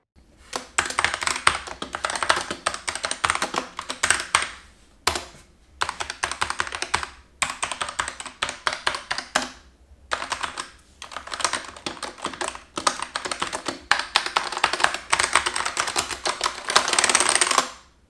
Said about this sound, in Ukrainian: Якщо ви обираєте механічну клавіатуру, то маєте передбачити те, що вона не тиха.